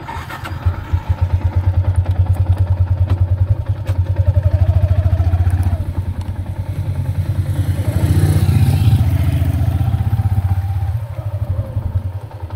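Motorcycle engine idling steadily with a low, even mechanical drone throughout, close and fairly loud, a slight rise in revs partway through; no talking.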